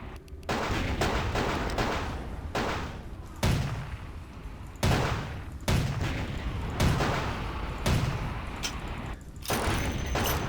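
Loud gunshots from Vampire the Masquerade Bloodlines ring out as a string of about eight heavy, booming blasts spaced a second or so apart, each with a short echoing tail, and no one speaks.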